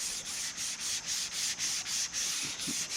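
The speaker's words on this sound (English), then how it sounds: "Sanding with the grain." Sandpaper worked by hand along the grain of a wooden tomahawk handle, giving long rhythmic scratchy strokes roughly three per second, close up and steady, with no voices.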